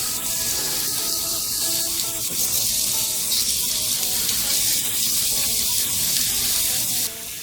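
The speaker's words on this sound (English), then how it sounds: "I'm using my Ninja Woodfire grill to do all my cooking." Dove meat grilling on a Ninja Woodfire grill gives a steady, loud hiss and sizzle that carries on without a break, like spray from a faucet.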